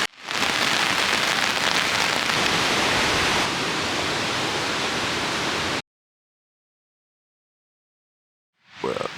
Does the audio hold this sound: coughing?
no